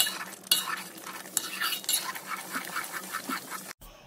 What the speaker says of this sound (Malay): Kacau kini menjadi sekata.